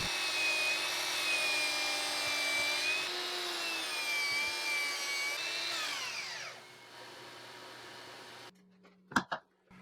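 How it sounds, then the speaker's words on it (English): A miter saw cuts wooden boards to rough length for a concrete and epoxy table, a loud sustained whine that winds down and fades, followed by a few sharp clunks. "I moved over to my miter saw to cut the boards to rough length"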